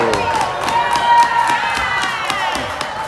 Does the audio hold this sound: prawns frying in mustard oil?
no